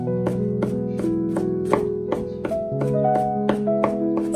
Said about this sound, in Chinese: 然後直接給它剁成蒜末